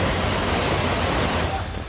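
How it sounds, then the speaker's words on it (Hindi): Steady broadband rush of a waterfall pouring heavily, a dense continuous roar of falling water with no breaks, loud and close throughout. "झरने का तेज बहाव"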